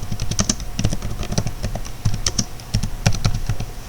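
A computer keyboard is typed on close up as a comment is entered, giving quick, uneven clusters of crisp key taps with brief pauses between bursts.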